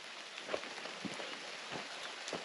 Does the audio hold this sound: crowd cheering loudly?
no